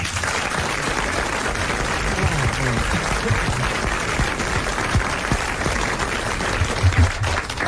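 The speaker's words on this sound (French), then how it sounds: "Je trouve qu'il n'y a pas tout à fait assez de chaleur dans vos applaudissements, Monsieur Martin" Audience applause for Jean Dutourd on a 1980 French television show, a dense, sustained wash of clapping from a sizeable crowd, steady and even for several seconds.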